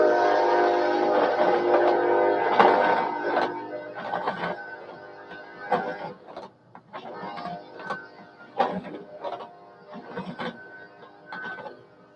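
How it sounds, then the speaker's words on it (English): An eastbound Kansas City Southern freight train rumbles past with a long, loud horn blast at the start, followed by fading clanks and mechanical rattling as the cars roll by. "Kansas City Southern Railroad."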